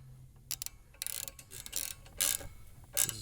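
Allen bolts being tightened on a harness bar clamp in a C7 Corvette: quiet, irregular metallic clicks and short ratchet-like scrapes, close up and alone.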